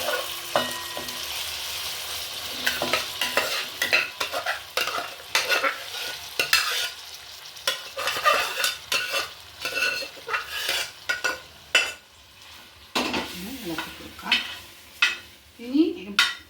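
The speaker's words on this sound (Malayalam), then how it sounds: "എപ്പോഴും ഇളക്കിക്കൊണ്ടേ ഇരിക്കണം, അടിയിൽ പിടിക്കാതെ" Green gram payasam being stirred in an uruli, with repeated scraping and knocking of a spoon against the vessel over a soft sizzle, irregular strokes close up.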